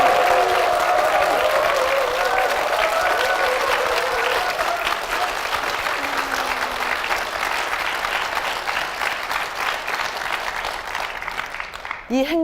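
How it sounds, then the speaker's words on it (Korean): A church congregation applauds at length for its church and pastor, the dense, steady clapping carrying some crowd noise and tapering off at the very end. "우리 교회와 목사님을 위해서 다시 한번 큰 박수 부탁드리겠습니다."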